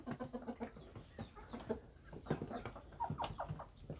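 Village chickens cluck while eating herbal feed, with rhythmic close clucks early on and scattered calls and pecking afterward.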